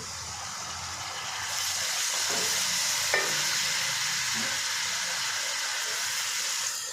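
Tomatoes added to onion and ginger garlic paste frying for a Pakistani chicken pota, giving a steady close sizzle and hiss with brief stirring clatter, no talk.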